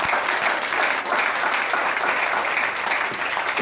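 A church audience applauds for Jesus, with steady, dense clapping that holds at full strength throughout and carries a faint voice underneath.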